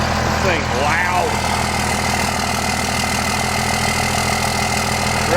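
A 2002 Dodge Cummins diesel truck idles with a loud exhaust, giving a steady, rumbling drone that holds constant throughout. A voice is heard briefly near the start over the engine.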